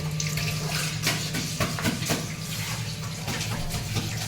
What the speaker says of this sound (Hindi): पानी थोड़ा और डाल दो।